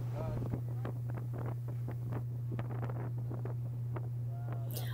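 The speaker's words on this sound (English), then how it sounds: "All of that sound that you hear is not the wind in the microphone, it's the sound the volcano is making." Kilauea volcano rumbles near the ocean during an eruption, a continuous low roar with repeated sharp blast-like pulses, heard from a boat close to the lava entry, with a steady low engine hum underneath.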